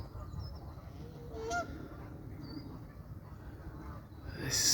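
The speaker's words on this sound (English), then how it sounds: "More geese having a bit of a squabble over there." Geese by the water's edge give a few scattered honks, some fairly distant, over a steady outdoor background. The squabbling grows louder at the very end.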